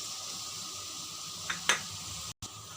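Vegetables stir-frying in a pan for prawn fried rice, a faint steady sizzle with a couple of brief utensil scrapes and a short cut-out near the end, no voices.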